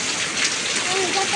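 Evening rain pours down steadily on surfaces outdoors, a dense even patter close by, with a faint voice murmuring underneath.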